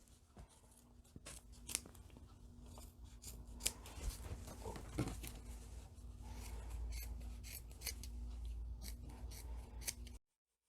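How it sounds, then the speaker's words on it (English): Scissors snip across the corners of sewn fabric for a fabric book cover, a run of close, crisp cutting clicks and soft crunches that repeat steadily for about ten seconds with no talking. "Clipping those corners to reduce the bulk."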